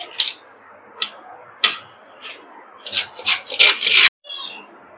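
Raw green mango being grated by hand produces a series of rough rasping scrapes, sparse at first, then quicker strokes that stop abruptly.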